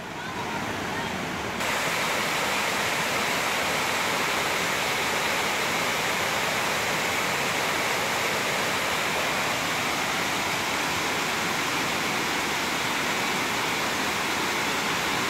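Fall Creek Falls running at low flow, a steady broadband rush of falling water that continues unbroken and fairly loud throughout, with no talk.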